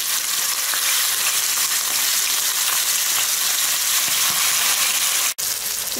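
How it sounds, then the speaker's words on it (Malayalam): Chicken pieces frying in sunflower oil in a pan, giving a loud, continuous close-up sizzle with fine crackling and one sharp clink near the end. "ചിക്കൻ ഫ്രൈ ചെയ്യാൻ വേണ്ടി പാനിൽ എണ്ണ ഒഴിച്ചു കൊടുത്തിട്ടുണ്ട്."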